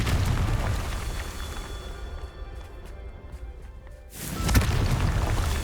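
An explosive blasting spell in Hogwarts Legacy goes off as a loud rumbling boom, fades into a quieter stretch, then a second heavy blast erupts near the end, without clear talk.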